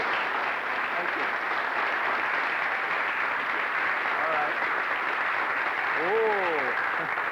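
Members of a marching band clap steadily for their conductor, a dense, even wash of applause sustained throughout, with a voice briefly calling out near the end.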